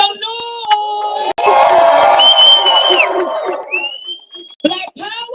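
A crowd at an outdoor reparations rally cheers and whoops loudly and steadily, with high tonal whistle-like sounds and voices mixed into the noise.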